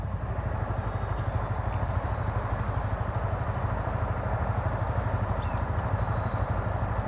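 A Honda motorcycle engine runs with a steady, even throb and a fast rhythmic pulse, holding a constant loud level from start to finish without voices.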